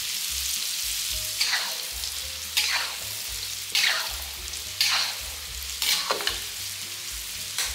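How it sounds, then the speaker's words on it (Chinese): Meat deep-fries in very hot oil, a constant bubbling sizzle swelling into regular louder surges about once a second as pieces are moved and stirred, close and alone without speech. "这一次的油温会比较高，所以不需要炸到那么久，目的只是要把肉炸到上色"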